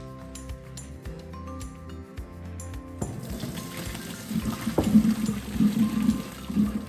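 Blanched Brussels sprouts tipped into a colander, water pouring and splashing through for several seconds after a few light clinks of cookware, close and fairly loud.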